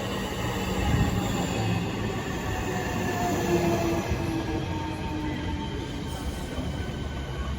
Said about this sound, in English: arriving now is the 10:52 southeastern service to Gillingham